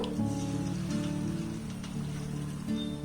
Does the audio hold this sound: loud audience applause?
no